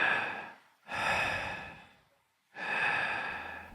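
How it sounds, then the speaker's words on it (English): Loud, heavy breathing on a phone line used as a ghost story effect: two long, close, raspy breaths with a short silent gap between them. "I could only hear the loud breathing."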